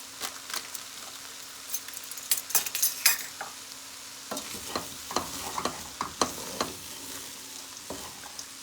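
A spoon stirs ground allspice through roasted lamb cook-up rice in a pot, giving soft scraping strokes and light clatters in short bursts with quiet gaps, close but fairly faint, with a gentle sizzle under them.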